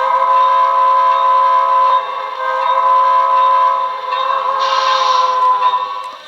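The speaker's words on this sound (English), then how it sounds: "That's Broadway Limited's attempt at a grade crossing whistle." A Broadway Limited (BLI) New York Central Dreyfuss Hudson 4-6-4 model locomotive sounds its grade crossing whistle, a loud, sustained chime-like tone with a brief dip and a second blast, close up with no talking.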